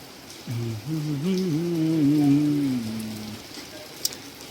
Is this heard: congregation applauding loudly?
no